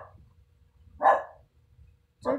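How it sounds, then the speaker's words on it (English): Two quick dog barks a second apart, moderately close and fairly soft, with near silence between them. "Sorry for the dog guys."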